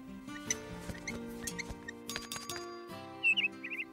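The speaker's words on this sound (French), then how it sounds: "J'adore t'entendre gazouiller." A cartoon blue bird, Pilou, twitters in a few short, high chirps near the end, preceded by soft animated background sounds and tinkly music-like tones.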